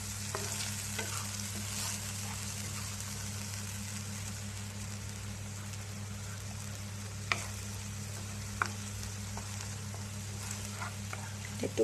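Spices fry in a pan for paneer masala, giving a steady, soft, close sizzle with occasional faint stirring clicks throughout, no voice over it.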